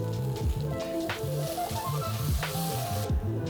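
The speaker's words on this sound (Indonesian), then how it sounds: "Dan kita tumis bumbu halusnya" Spice paste for a meatball gulai sautés in a little oil, giving a steady soft sizzle beneath prominent background music with repeating tonal notes.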